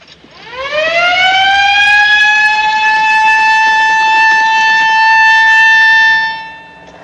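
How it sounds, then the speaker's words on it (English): A prison escape alarm siren winds up from low to a loud, steady wailing tone, holds for several seconds, then drops away at the end, with no voices. "Sound the alarm."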